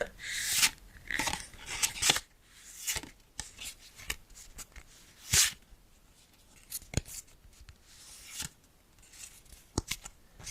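Pokemon trading cards shuffled by hand, heard as a series of crisp, close papery riffles and flicks in irregular bursts with short pauses between, fairly quiet and with no talking.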